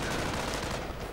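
Flak gun fire in a Company of Heroes 1v1 match between US and Wehrmacht forces: a dense, sustained burst of anti-aircraft cannon fire with a steady, fairly loud clatter and no talk.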